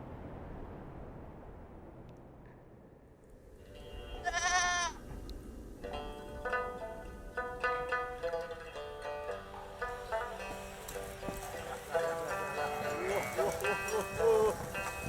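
Sheep and goats bleat from an open pen at dawn on a shepherd's farm, with several overlapping calls near and far over a low background rumble.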